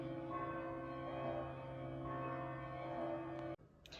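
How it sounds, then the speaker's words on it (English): Church bells ring continuously in a dense, sustained wash of overlapping tones, fairly distant, then cut off abruptly near the end. "Of course, the church bells have to go off now."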